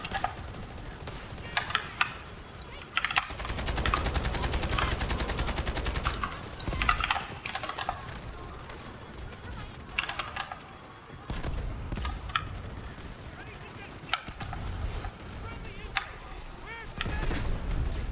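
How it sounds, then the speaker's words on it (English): Gunfire and a grenade blast in the shooter game Delta Force, with repeated sharp shots and a sustained loud burst of fire, several clusters of reports spread across the span. "Grenade on the way."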